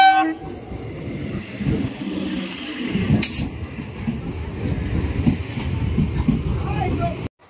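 Steady rumble and rattle of a local commuter train carriage in motion on a quiet Sunday ride, with rhythmic wheel clatter, a brief sharp horn or squeal midway and low background chatter.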